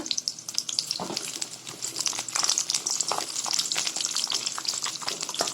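Shallots fry in hot oil with mustard seeds in a pan, giving a steady, close sizzle with crackling pops and occasional stirring scrapes throughout, no voices.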